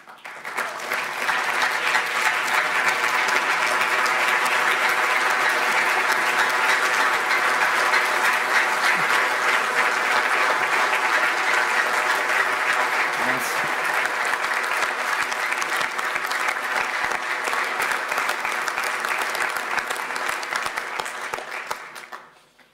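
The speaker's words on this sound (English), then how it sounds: "be standing on your feet and a warm round of applause for the world champion himself, Mr. Didier Deschamps." A large conference audience at a FIFA football event gives a long, sustained round of applause for world champion Didier Deschamps, steady dense clapping that swells quickly, holds evenly for about twenty seconds, then fades out.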